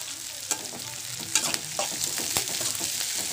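Onion and green chilli sautéing in a pan: a bright, continuous sizzle close up, broken by a few sharp scrapes of a stirring spoon.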